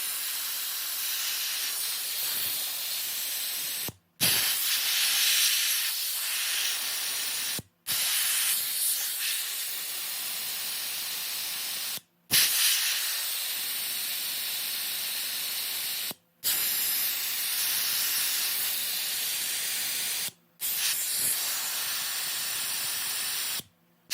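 Air hisses from the tires of a 2020 Toyota Tacoma TRD Off-Road through a four-hose deflation unit, letting them down toward 20 psi. The loud, steady jets come in five or six long stretches separated by brief silent breaks.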